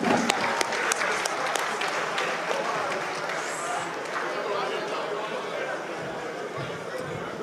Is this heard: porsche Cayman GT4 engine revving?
no